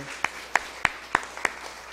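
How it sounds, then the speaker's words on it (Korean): Claps ring out during a church service, five sharp, evenly spaced hand claps in a slow, steady rhythm in a quiet room. "박수하겠습니다"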